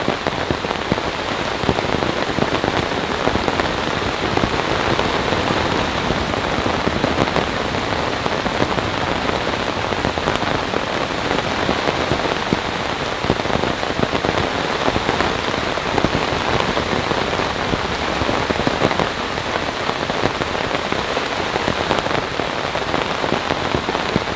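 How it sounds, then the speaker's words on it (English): Heavy rain from a thunderstorm pounds steadily on a camping tarp, a dense, loud, continuous splattering hiss with no pauses throughout. "That's water basically splattering on the top of the tarp, splattering on the ground"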